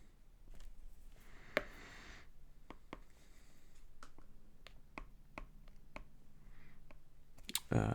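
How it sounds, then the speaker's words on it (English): A pen scratches and taps across paper while shading in a graph, with soft intermittent strokes and clicks, close and quiet, and no talking. "Just color that on in. Okay. And we'll write that over here."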